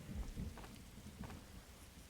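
Rain and thunder inside a Roblox forest game: a soft steady rain hiss with low rumbling thunder rolls, faint and distant, no voices.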